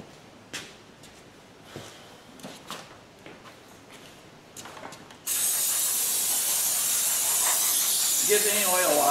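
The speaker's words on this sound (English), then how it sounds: "A little brake clean." Brake cleaner sprayed onto a 2020 Chevrolet Traverse rear brake rotor resting on a garage floor, a sudden loud continuous hiss that starts after a few light clicks and taps and runs steadily to the end.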